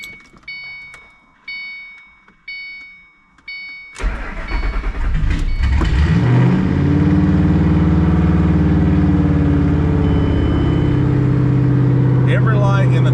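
A 2007 Ford Mustang cranks with several rhythmic starter bursts, then fires and settles into a loud, close, rumbling idle; a person talks over the running engine.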